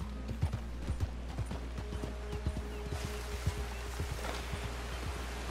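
Horse hooves clip-clop in the Red Dead Redemption 2 video game, a steady, fairly quick series of distinct hoof strikes over a low constant hum, with no talking.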